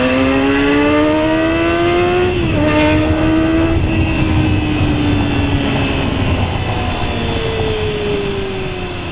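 A Kawasaki ZX-25RR motorcycle on a morning city commute winds up through the gears with a high, whining note that climbs and briefly dips at each shift. The sound is loud and close over wind rush.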